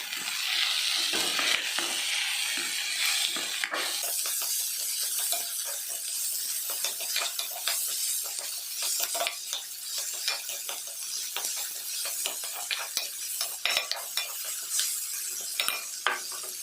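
Chopped tomato frying in a pan while a spoon stirs it, with frequent scraping and clinking against the metal over a continuous soft sizzle, close and busy, no talking.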